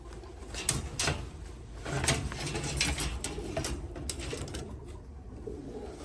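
A pair of Mantolu pigeons, a male and a female, coo softly at close range with low throaty calls, plus scattered wing flutters and scratchy rustles.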